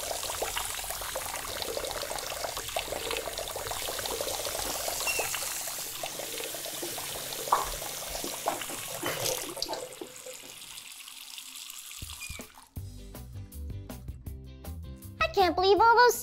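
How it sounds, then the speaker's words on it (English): Many sinks running at a summer camp, a continuous splashing and trickling stream of tap water filling the room for several seconds, fading to quieter sounds with children talking and a brief musical tone near the end. "I can't believe all those sinks are running."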